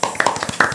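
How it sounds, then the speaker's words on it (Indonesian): A short burst of hand clapping from a studio audience greets two guests from the FEB UGM futsal team on a talk show, with a few sharp claps standing out. "Tepuk tangan dulu."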